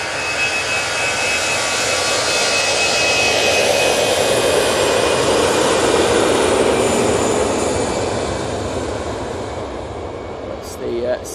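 EasyJet Airbus A320ceo jet departing Manchester Airport, a loud sustained engine roar with broadband rumble that peaks mid-clip and slowly fades as the aircraft climbs away.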